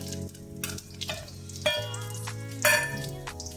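Potato pieces go into a pan of chillies already fried golden brown while cooking sabudana khichdi, followed by a close, steady sizzle and frying hiss with a few louder surges and stirring clatter, no talk.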